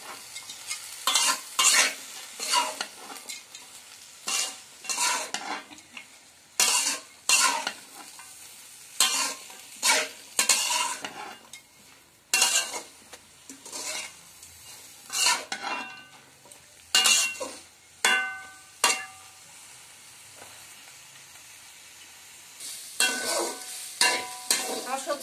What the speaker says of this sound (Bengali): ভালো করে আমি সবজিটা ভেজে নিব।